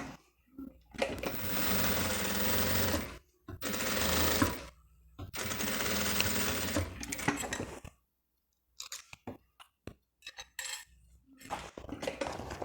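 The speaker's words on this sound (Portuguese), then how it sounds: "E aí você pode fazer uma costurinha com ponto invisível ou passar aqui na máquina." A sewing machine closes up a beginner's classic toiletry bag, running in three long loud bursts with short pauses, then quieter clicks and handling sounds near the end.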